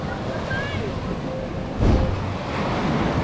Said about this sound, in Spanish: El mar está bastante crecido